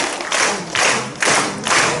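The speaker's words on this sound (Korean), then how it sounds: "주님께 영광의 박수 올리겠습니다." A church congregation claps in praise during a revival worship service, the clapping rising and falling in several broad, noisy swells, fairly close and full, with no talking over it.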